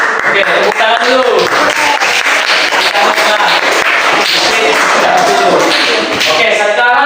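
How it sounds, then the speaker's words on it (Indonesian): A classroom of students claps loudly and close, with uneven slaps and taps and lively voices chattering throughout. "tepuk tangan dulu"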